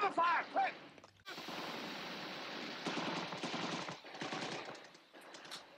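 Machine gun fire in the 1977 war film A Bridge Too Far, a sustained rattling fusillade of rapid bursts under shouted voices, fairly distant and low in level with brief pauses.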